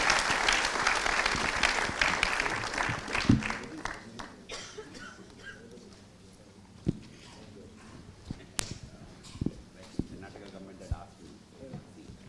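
Audience applause for panelists at a conference closing, starting fairly loud and dense, then thinning out after a few seconds into scattered, isolated claps with a distant voice underneath.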